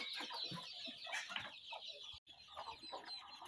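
Chickens clucking with their chicks, a busy stream of close, overlapping clucks and peeps with no talk.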